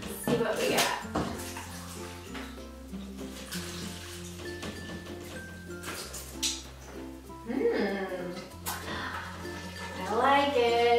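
Water rinsing a surface after scrubbing with a Turbo Scrub brush, a splashing, running flow with clattering handling noises, and a voice speaking over it.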